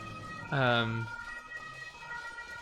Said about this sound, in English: there's a really loud police car in front of my apartment